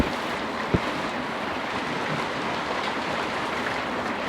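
Steady rain falls during a wet bike ride in Bagac, Bataan, a dense even hiss that continues throughout with one short thump near the start and no talking.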